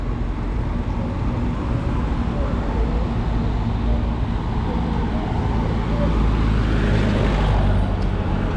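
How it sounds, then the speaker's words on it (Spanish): A vintage convertible car drives through Havana, with a continuous engine rumble and road noise mixed with surrounding city traffic. The sound is loud and steady throughout. "Pues con este carro nos vamos a desplazar por la ciudad. Es un descapotable"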